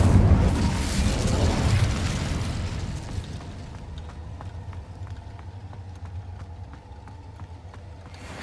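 A fire spell cast in the video game Hogwarts Legacy: a loud burst of roaring flame that swells, then dies down into a quieter crackle with faint, regular ticking.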